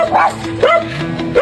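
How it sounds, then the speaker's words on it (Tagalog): Several dogs bark and yip in quick bursts, close and loud, in a busy outdoor setting where people are selling food, with a voice briefly heard among them. "Ang daming aso"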